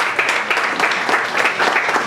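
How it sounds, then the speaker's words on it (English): Steady applause from a crowd at a community chorizo and menudo breakfast in Dallas, dense clapping filling the room at even loudness throughout. "I think we should give a huge round of applause to Commissioner Garcia"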